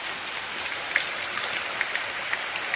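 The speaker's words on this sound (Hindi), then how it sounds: "इतनी तगड़ी बारिश हो रही है।" Heavy rain pours steadily in Uttarakhand, a dense constant hiss of water hitting the ground with occasional sharper drop splashes standing out, close and uninterrupted, with no one speaking.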